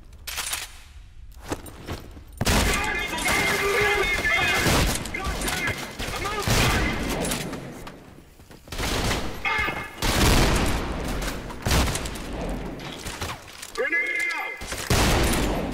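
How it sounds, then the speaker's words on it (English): Shotgun blasts in the shooter game Trepang2, loud booming shots repeating irregularly amid other gunfire and explosions across a chaotic firefight, with a voice talking at points. "They don't hear my shotgun."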